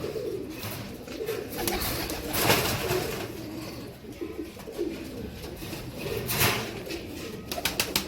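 Ambarsary pigeons, an old Indian breed, kept in a loft, cooing and calling repeatedly at close range with occasional wing flutters and rustling, no talk.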